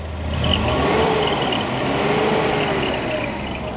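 A gas-fuelled forklift engine idles smoothly and then revs up, a steady, fairly loud, close engine drone that rises and falls gently, with no voices.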